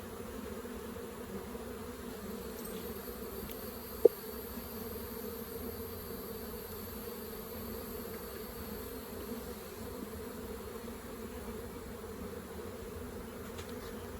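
Honey bees inside the wall of a house give off a steady, continuous hum at moderate level, with a single brief click partway through and no voices.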